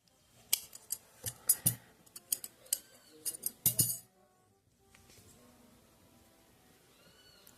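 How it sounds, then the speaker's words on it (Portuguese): Scissors cutting yarn while making an amigurumi nutcracker, a quick run of crisp snips and metallic clicks up close, then quiet handling sounds afterward. "Vou cortar o meu fio"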